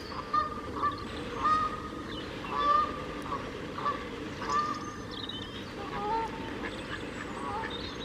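Ducks and geese honk and quack in repeated calls outdoors in Queens Park, moderately close, over a rustling background.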